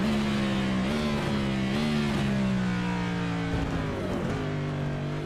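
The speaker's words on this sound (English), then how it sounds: "And let's just listen to the car for a little bit." NASCAR Cup race car lapping the Charlotte Roval road course, engine droning loud and steady with shifting pitch as it brakes, downshifts and accelerates through corners.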